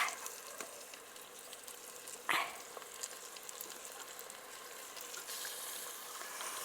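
Chicken pieces fry in a pan for Afghani chicken pulao, giving a steady, faint sizzle with one brief louder hiss and a few small stirring clicks.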